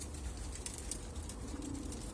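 Pigeon chicks, a pair of young zubairi pigeons, cooing softly in a loft, faint and low under steady background hiss, with a few light rustles.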